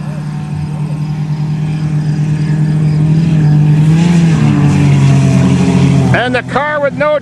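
Racing engines of Dodge Stratus and Chrysler Cirrus field race cars roar and rise in pitch, then several cars whine past quickly near the end, with continuous engine noise throughout.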